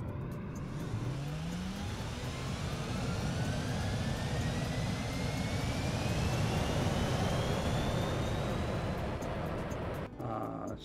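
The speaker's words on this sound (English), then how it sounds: "Let's see if I can take this biplane up" A biplane's propeller engine drones steadily inside the VRChat game, a continuous loud hum with a slowly rising whine, cutting off abruptly near the end.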